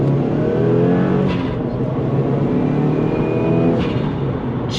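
A tuned flex-fuel Subaru WRX engine revving hard through a pull, a loud, sustained roar that climbs steadily in pitch with no voices.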